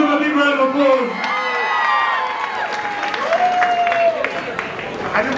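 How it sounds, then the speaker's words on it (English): Wedding reception guests clap and cheer, a dense crowd applause with whoops and voices calling out, loud and sustained throughout. "Give them a big round of applause."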